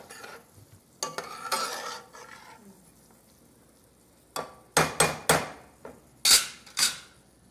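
A spoon stirring food in a cooking pan: a few soft scraping strokes, then a run of sharp, close clanks and scrapes against the pan with short pauses between, no talk.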